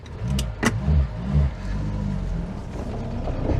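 A classic car's engine, just taken off choke, catches with a few throaty revs, then settles into a steady, loud idle rumble with no talking.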